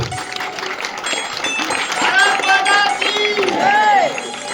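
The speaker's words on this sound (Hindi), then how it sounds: "तालियां बजाने में कमी ना करें।" Audience clapping at a school ceremony honouring Class 10 toppers, a sustained round of applause mixed with crowd noise and overlapping voices, with some whistling tones rising through it.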